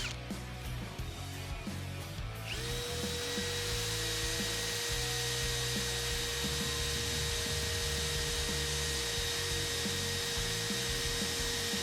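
A TECCPO 20V Max 1/2-inch drill driver bores through 1/8-inch metal, its motor whining at a steady pitch after a brief rough start, close and continuous with grinding underneath and no speech.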